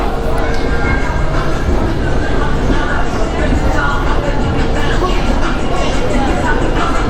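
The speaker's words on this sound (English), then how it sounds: "There's our train arriving." An E subway train pulls into the station, a loud, steady rumble of wheels and motors filling the platform from start to finish, with voices of people talking over the noise.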